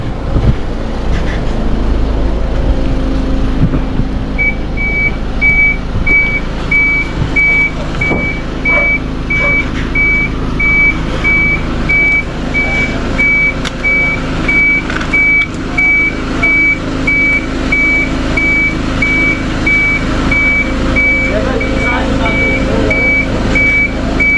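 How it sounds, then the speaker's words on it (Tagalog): A construction truck reversing, its steady backup beeper sounding continuously over loud engine rumble and outdoor noise, with people talking at times. "Ito yung truck namin nila architect para sa ano to, sa construction."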